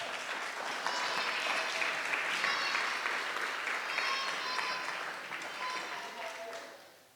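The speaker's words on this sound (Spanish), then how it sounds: "Aplauda" Church congregation claps together in a dense, steady burst that swells in the middle and fades toward the end, with a few voices mixed into the applause.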